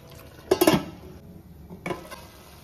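Spoon stirring coconut milk rice in a pot on the stove, a close cluster of scraping clinks against the metal followed by a second, softer stir, with quiet pauses between.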